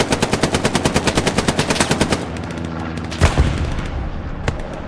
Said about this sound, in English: I think the artillery's hitting us